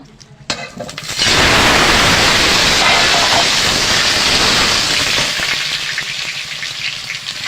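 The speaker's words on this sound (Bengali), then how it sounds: "আমি আলুটা ভেজে নেব।" Potatoes drop into hot oil in a pan and burst into a loud, close, roaring sizzle that holds steady and slowly eases slightly, with no talk.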